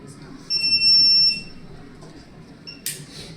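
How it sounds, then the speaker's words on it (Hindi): A steady high buzzer tone from an Arduino ultrasonic-sensor obstacle alarm, sounding for about a second and then fading, with faint short beeps after and a brief noisy burst near the end. "अगर कोई भी ऑब्जेक्ट अल्ट्रासोनिक सेंसर के पास आएगा तो buzzer automatically buzzer sound produce करने लग"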